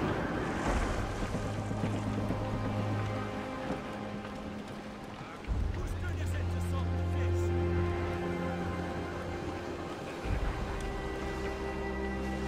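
Steady wind and rolling waves around a sailing ship at sea in Assassin's Creed Rogue, a continuous rushing wash with low tonal drones and occasional swells, no voices in the clip.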